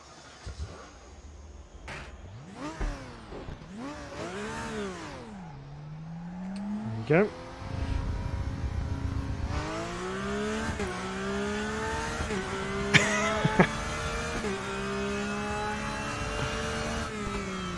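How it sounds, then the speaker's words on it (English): A Porsche 911 race car with a six-cylinder engine in a DTM racing game revs hard through gear changes, its pitch rising and falling while accelerating out of tight corners, loud and close, and someone speaks briefly over it. "911, 6-cylinder goodness coming your way."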